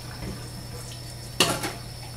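Tap water runs into a kitchen sink while canned beans are rinsed in a strainer, a steady low wash with a brief louder splash midway.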